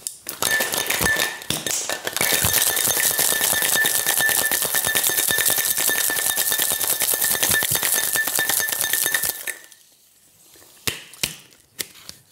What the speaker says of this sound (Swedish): Och vi skakar med ett par rejäla isbitar.